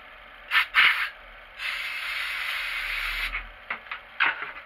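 A compressed air blower blowing off a clay pigeon trap part, with short hissing blasts followed by a longer sustained blast of air, then a few brief puffs, all close up in a shed.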